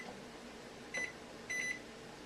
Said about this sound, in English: I'm just gonna put the timer on since I'm here